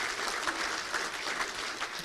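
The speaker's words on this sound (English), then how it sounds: "Let's give a round of applause for an unbelievable game for both these guys." An audience at a Little Rock Touchdown Club event gives a round of applause, a steady patter of many hands clapping, moderately faint and even for about two seconds.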